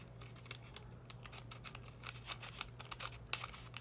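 Scissors snip through wax paper in a series of quick, crisp cuts that grow brisker toward the end, close and soft over a steady low hum.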